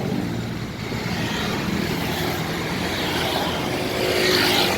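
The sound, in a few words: Hino Dutro 4x4 double cabin truck driving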